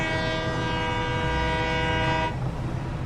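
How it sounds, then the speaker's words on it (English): A train in the factory-building game Satisfactory sounds a loud, sustained, harmonic horn blast over a rumbling engine, and the horn cuts off abruptly near the end while the low rumble continues. "Going for a lovely little train ride."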